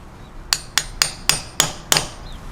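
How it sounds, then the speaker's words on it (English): Six sharp metallic hammer blows strike a pilot bushing tool up close at a steady, quick pace, each ringing briefly before the next, with no talking. "this is how the pilot bushing tool works"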